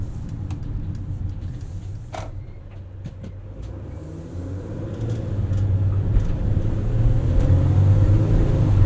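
A 2019 Mercedes-Benz Sprinter 3500XD crew van drives with a steady low engine drone, a few light knocks early, then the engine note swells louder and rises as it accelerates.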